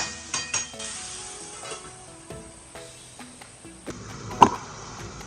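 Tomatoes cooking in a pan on low gas for a dried Bombay duck chutney, a soft steady sizzle with several close clinks and scrapes of a utensil against the pan, one sharper knock near the end.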